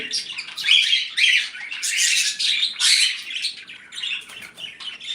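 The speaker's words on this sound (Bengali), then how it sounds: "খুব সুন্দর বাজরিয়ার পাখি" Budgerigars at a bird farm in Bangladesh chirp and twitter close by in a dense, overlapping flock chorus. Quick bursts of sharp chatter and squawks rise and fall continuously.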